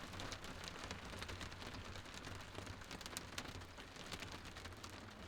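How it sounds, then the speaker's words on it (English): Soft, dense patter of rain drumming on a truck roof overhead, faint and continuous with scattered sharper drips. "rain tapping on the roof like it's checking to see if I'm still alive"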